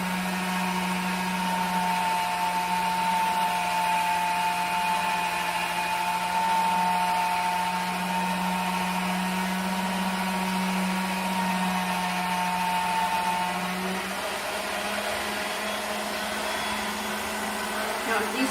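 A hand-cranked pasta machine rolling a thin strip of homemade pasta dough, a steady mechanical whir with a low hum that holds evenly for the whole stretch, close and fairly loud.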